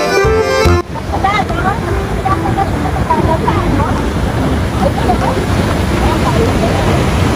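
Steady roar of Bridal Veil Falls at Niagara Falls, a loud, continuous wash of falling water mixed with wind buffeting the microphone, heard close and unbroken after a brief tonal sound at the start.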